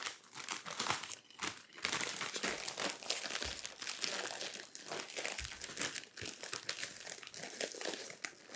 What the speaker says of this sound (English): This is good audio. No talking, just crinkle.